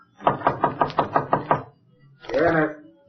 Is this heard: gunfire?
no